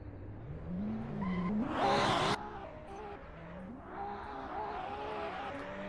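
Two Toyota drift cars with 2JZ engines idle and rev at the start line of a drift competition, a steady engine drone rising into a loud rev burst before settling back to a rumbling idle.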